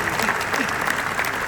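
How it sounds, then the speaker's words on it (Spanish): A crowd claps steadily in a dense, even wash of applause that holds at the same level throughout, with voices faintly mixed underneath. "Así que un aplauso para Darío."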